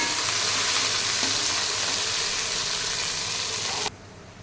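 Curry leaves hitting hot oil in a pan for chicken fried biryani, a loud, dense crackling sizzle that holds steady and then drops abruptly to a much quieter hiss near the end.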